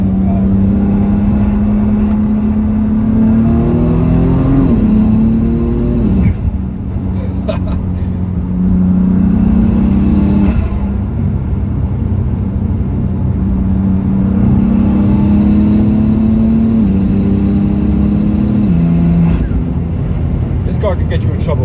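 A BMW F80 M3 sedan fitted with stage 2 turbos pulls hard through repeated rising engine sweeps, each climbing in pitch before a sharp shift drop, loud and close from inside the car while someone talks over it.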